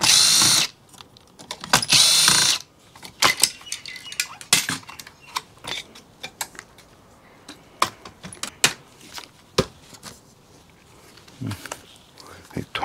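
A power screwdriver removes tiny screws from a computer motherboard while e-waste is dismantled. Two loud, close whirring bursts come first, then scattered clicks and light clatter of small parts.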